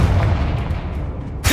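A Confringo blasting spell in Hogwarts Legacy goes off with a loud, booming rumble that fills the clip, closing with a sharp burst of impact at the end.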